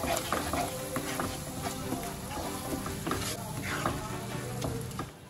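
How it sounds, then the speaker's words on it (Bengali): Spice paste mixed with cashew and poppy seed paste fries on a pan, a dense close sizzle under frequent spatula scrapes and stirs, steady throughout with no speech. "এবার মশলাটাকে একটু ভালো করে কষাবো।"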